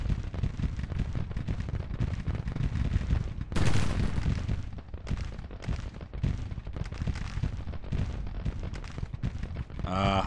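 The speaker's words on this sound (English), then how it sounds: "I don't know where the flanking fire is coming from unless it's the artillery." Dense Civil War battle gunfire and artillery from the strategy game Grand Tactician: The Civil War, with continuous crackling musket volleys and heavier booming bursts running without pause, loud throughout.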